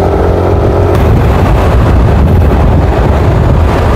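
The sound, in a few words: strong wind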